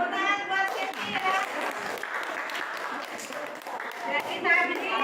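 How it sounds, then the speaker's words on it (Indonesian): A classroom of students applauds a classmate named Cynthia, with steady, moderately loud clapping that fills the whole stretch and a brief louder swell near the end. "tepuk tangan buat Cynthia"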